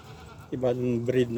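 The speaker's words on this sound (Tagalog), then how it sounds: "Ay, ano pa na, karnero pala ito." A sheep in an animal yard gives two close, loud bleats in quick succession after a brief quiet stretch, with light background noise.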